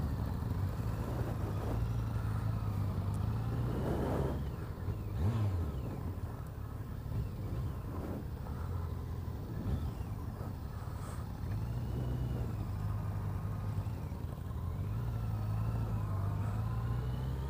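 A 2017 Yamaha FJR1300 touring motorcycle engine hums steadily while riding at low speed, with wind rush and a few rising and falling throttle swells under the drone.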